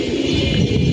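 Pigeons in a loft give a brief, low, soft cooing murmur that sounds close and steady, with no talking over it.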